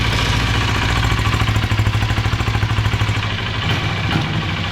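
Honda CBR motorcycle engine idling just after being started following two months unused, a loud close-up pulsing chug with a fast, slightly uneven rhythm, heard alone without talk.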